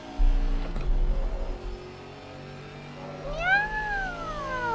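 A house cat gives one clear, drawn-out meow near the end, close and fairly loud, over a low steady background rumble with a few soft clicks earlier.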